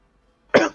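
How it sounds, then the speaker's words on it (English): A single abrupt cough from a person, close and fairly loud, bursting out after near silence and fading within a fraction of a second. "coughing is not in character"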